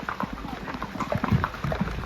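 A horse's hooves clip-clop in a quick, steady rhythm on a trail in Matheran, fairly close and moderately loud, with faint background voices underneath.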